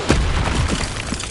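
Incendio fire spell cast in Hogwarts Legacy on PS5, a short booming burst of flame with a sharp initial pop followed by a rumbling, crackling roar that sustains loudly for about a second.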